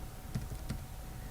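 A phone number being typed on a computer keyboard, a short burst of about three quick, soft key clicks close by in a quiet room.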